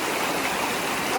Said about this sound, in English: very peaceful to be able to hear the sound of the river as you walk